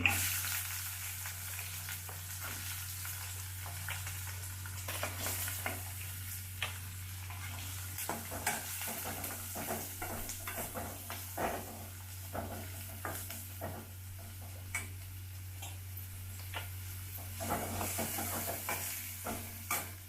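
Chopped onions sizzle steadily in hot oil for a North Karnataka ridge gourd palya, a continuous close frying hiss broken by frequent sharp spatula scrapes and ticks against the pan.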